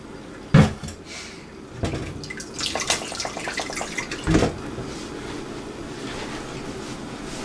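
Hot homemade chicken broth with vegetables is poured in a kitchen, giving a few splashy liquid bursts and trickles with quieter pauses between them, close by and with no talking.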